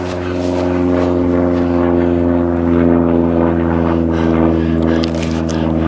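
A propeller airplane drones steadily overhead outdoors near desert ruins, a loud, continuous engine hum that holds for several seconds, with faint voices underneath.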